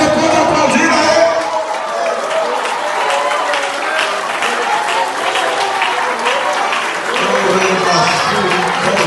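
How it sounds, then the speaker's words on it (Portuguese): A church congregation breaks into sustained applause during a sermon, a dense, steady wash of clapping that fills the room at full volume for the whole stretch, with a few voices mixed in. "Você pode aplaudir a ele."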